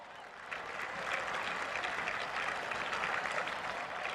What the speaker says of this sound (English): Please give our officials a round of applause.